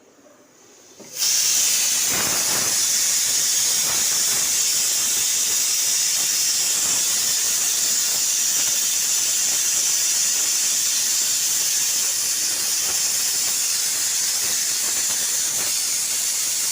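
Seasoned ivy gourd, with chilli powder and salt, hits an oiled tawa and breaks into a loud, steady sizzle that starts abruptly and holds evenly throughout.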